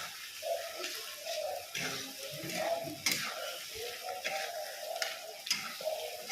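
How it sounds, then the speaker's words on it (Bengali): Spices with salt and turmeric fry and get stirred in a pan for a potato and pointed gourd curry, a soft continuous sizzle with scraping stirs and faint clinks. "দিয়ে ভালো করে কষিয়ে নেব।"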